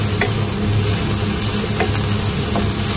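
Soy sauce being stirred into a dish frying in a pan, a steady loud sizzle with a few scraping stirs of the spatula cutting through.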